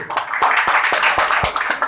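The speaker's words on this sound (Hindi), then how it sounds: "तालियां बजती रहनी चाहिए" Audience applause at a corporate team meeting in Jamshedpur, a short burst of close crowd clapping with a few sharper individual claps standing out.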